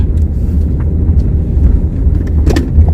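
A car drives along a road in Sweden, heard from inside as a loud, steady low rumble of engine and tyres with no talking.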